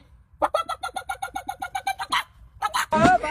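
A chicken gives a quick run of about a dozen rhythmic clucks close by, followed by a couple of louder squawks, with a voice briefly talking at the end.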